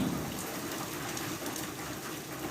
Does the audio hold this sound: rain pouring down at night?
yes